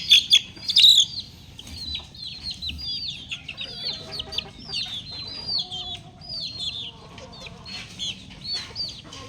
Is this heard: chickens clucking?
yes